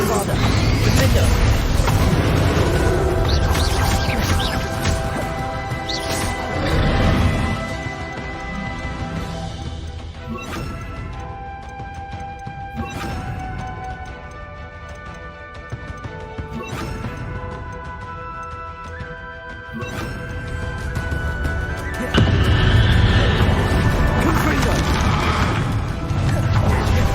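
Bombarda spells blast in Hogwarts Legacy, heavy crashing booms and smashes in loud bursts at the start and end, with magical tonal effects and music ringing between them.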